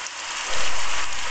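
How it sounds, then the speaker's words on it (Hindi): Heavy rain pours down in a forest scene from a Hindi animated cartoon. The dense, steady hiss swells louder partway through, with no voices over it. "बारिश तो बहुत तेज हो रही है दोस्त"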